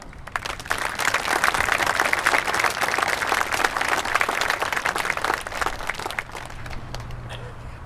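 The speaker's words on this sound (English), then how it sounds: "Please join me in a round of applause for all of our young men and women, no matter where they serve, here and abroad" An audience at a welcome home ceremony for service members claps in a dense, sustained round of applause that holds steady for several seconds, then thins out toward the end.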